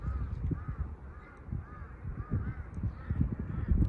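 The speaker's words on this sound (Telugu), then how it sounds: "కాకులు అయితే ఎతుకుతాండాయి" Crows caw repeatedly at a moderate distance beside a rough mountain road on the Drass to Banihal route in Ladakh, with steady rumbling wind and road noise underneath.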